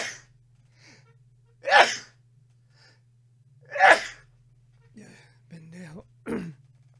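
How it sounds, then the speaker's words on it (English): A man sneezes twice loudly and close, each sharp burst separated by quiet, followed by throat clearing, gasps and a short bit of strained vocalizing. "I sneezed my voice right out of my throat."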